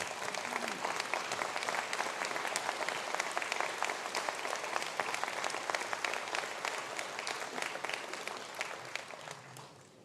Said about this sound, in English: I'd like to now call on those graduates to stand for a round of applause.